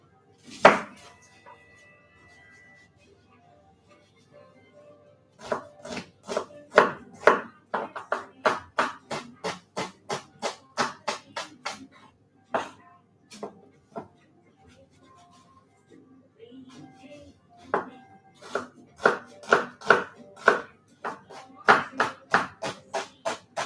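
An onion being chopped with a knife for tomato gazpacho: quick, sharp strikes on a board come in several rapid rhythmic runs separated by short pauses, loud and close.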